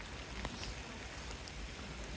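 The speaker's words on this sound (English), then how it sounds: "It's starting to rain." Rain beginning to fall outside All Saints Church in Babworth: a steady, faint hiss of light drops spread evenly throughout, with a few slightly sharper taps and no voices.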